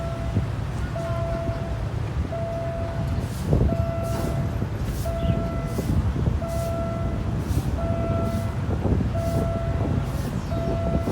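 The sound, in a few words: train passing level crossing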